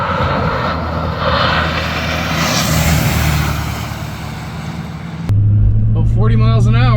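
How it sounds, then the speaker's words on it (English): A vehicle on BFGoodrich KO3 all-terrain tires drives through rain puddles, producing a loud, rushing roar of spray and road noise that swells and fades before cutting abruptly to a person talking. "I don't know why driving through puddles is fun"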